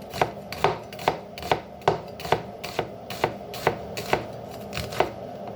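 An onion being diced with an old cleaver, a steady run of about a dozen sharp, close chops on a board, evenly spaced and heard alone.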